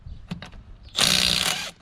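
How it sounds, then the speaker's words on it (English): Short, loud burst of a Milwaukee 2564-20 3/8-inch right-angle cordless impact wrench hammering on a car lug nut with a 1-inch socket on an extension, preceded by a few faint clicks, rattling for under a second. "3/8 9-degree impact ratchet"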